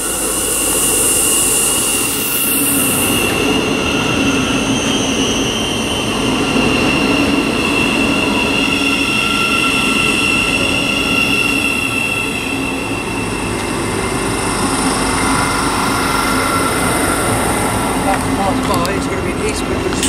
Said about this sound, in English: arriving now is the 1304 Thameslink service from Bedford to Brighton, 700104